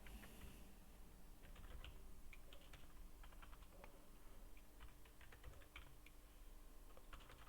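Steady computer keyboard typing in irregular quick clusters of key clicks, close but soft over a constant background hiss, with no talking.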